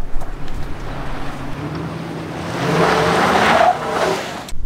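A 2022 Infiniti QX80 SUV in four auto drives off-road on street tires, its engine droning steadily with rising rumble and rushing, gritty tire and wind noise throughout.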